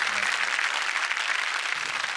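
A studio audience at a Marathi TV comedy show breaks into loud, dense clapping that holds steady without letup, near and continuous for a couple of seconds.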